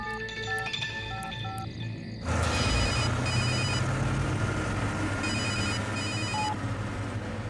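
A telephone rings in a Hindi film scene, its trilling electronic bell repeating in short bursts over a dense, noisy background that swells partway through.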